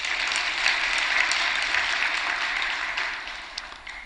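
A church congregation claps together in a sustained, lively burst of applause that slowly thins out toward the end.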